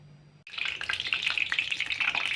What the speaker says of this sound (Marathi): आता मी हे भाजून घेणार तेलात तळून घेणार